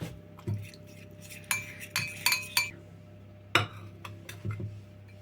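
A spoon stirring a soy sauce marinade for pork trotters in a bowl gives sharp, close clinks in irregular bursts over a quiet background, with no voices.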